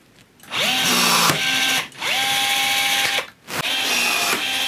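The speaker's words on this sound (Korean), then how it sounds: "똑같이 구멍에 리벳 못을 박고요. 구멍에 꽂고 자 한번 눌러볼게요." A Milwaukee cordless rivet tool sets and cuts rivets in three loud motor bursts, each a rising whine that holds steady, separated by brief pauses.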